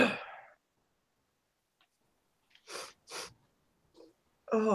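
A single person sneezes loudly and close, followed by two quick breathy bursts and a short snort-like puff, with silence between and a voice starting at the end.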